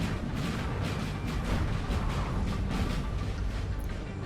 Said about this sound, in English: hillside firing into all the Prussian troops